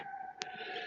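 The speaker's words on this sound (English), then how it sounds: "Now I'm hearing ambulances." Ambulance sirens on a main road near the Beltline in Madison, heard from indoors through an open window as a steady, fairly faint wailing tone, with a brief click partway through.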